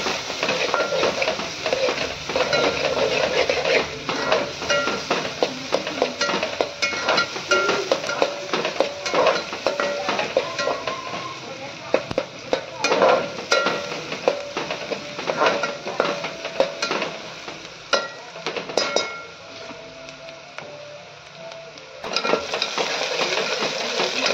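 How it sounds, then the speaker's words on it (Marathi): Rice being stirred and mixed in a pot, with repeated scraping and clinking of a spoon over a low sizzle, irregular and close, no speech. "चांगलं मिक्स करून घेऊयात"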